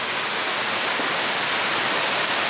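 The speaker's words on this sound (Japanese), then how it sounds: "カムイワッカ湯の滝です。" Hot spring water tumbles down the Kamuiwakka waterfall in Shiretoko, Hokkaido, a steady, dense broadband rush that fills the scene evenly and continuously without a break or any voices.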